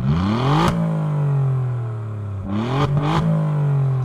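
Alfa Romeo Quadrifoglio with a 90-degree V6 in race mode with exhaust valves open, revving hard in repeated rising pulls with sharp breaks between shifts, loud, close and alone without talk.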